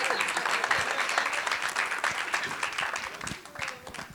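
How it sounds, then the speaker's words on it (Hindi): An audience at a Bollywood film trailer launch claps in a sustained burst of applause that tapers off toward the end, with a host's voice over it. "मैं एक बार ताली बजाइए ना आप लोग"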